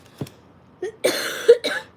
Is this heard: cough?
yes